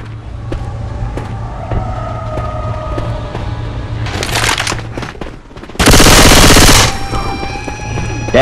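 Left 4 Dead 2 gunfire builds from scattered sharp shots over a low game hum into dense bursts, ending in one long, very loud sustained roar of rapid fire.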